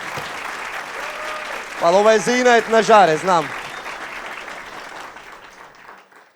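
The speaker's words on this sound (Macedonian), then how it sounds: "толку аплауз сум немал одамна" An audience applauds a speaker, a dense, steady wash of clapping that holds throughout and fades slightly near the end, while someone briefly talks over it in the middle.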